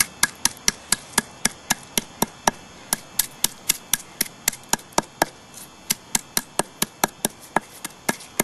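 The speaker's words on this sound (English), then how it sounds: "Take your little hammer stone here," A small hammer stone repeatedly strikes and crushes chert flakes during flintknapping, giving a steady run of sharp, close clicking knocks roughly three per second with no talking.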